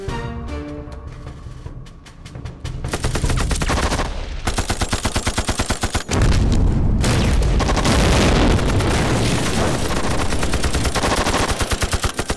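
Heavy machine gun fire in a war drama battle scene, loud sustained rapid bursts with booming impacts and explosive blasts, continuous and dense throughout with no talking.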